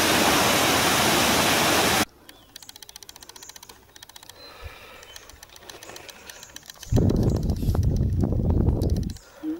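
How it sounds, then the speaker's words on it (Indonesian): A waterfall on the Mount Gede hiking trail roars as steady, loud broadband rushing, cuts out, then returns after a stretch of quieter rattling mechanical noise. "Waterfall."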